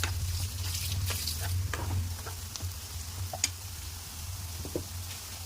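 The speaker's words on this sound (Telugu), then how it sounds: "ఒక స్పూన్ పసుపు వేసుకొని కలబెట్టుకుందాం" Okra (ladyfinger) frying in a pan as turmeric is stirred in, a low steady sizzle with scattered spoon clicks and scraping taps against the pan.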